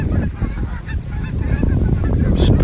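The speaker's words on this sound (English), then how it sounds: "Yeah, Canada geese and mallards for the most part." Canada geese honk loudly and close by in a dense, overlapping chorus of harsh calls, nearly continuous across the short stretch outdoors.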